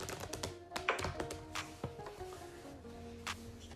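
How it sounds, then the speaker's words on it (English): Playing cards shuffled by hand during a card trick, a rapid run of soft, close flutters and taps with a few sharper snaps. "And shuffle those cards."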